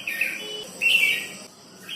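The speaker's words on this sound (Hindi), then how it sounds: "पीली रंग की चिड़िया के जाते ही नजर पड़ी इस हरे रंग की चिड़िया पे।" A small green songbird, parrot-like in look but not a parrot, gives a string of high, thin chirps, two brighter bursts standing out near the middle and end, close and clear over a faint quiet background with no talk.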